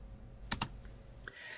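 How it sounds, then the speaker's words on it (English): A computer keyboard's space bar is pressed, giving two quick close clicks and then a fainter third tap against a quiet room hiss. "simply by pressing the space bar on your keyboard"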